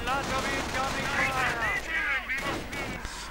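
Machine gun and rifle fire in a World War II strategy game battle at a bunker, crackling bursts under a steady commentator's voice.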